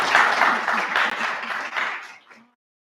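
Audience applause, lively clapping from many hands that thins out and fades to silence after a couple of seconds.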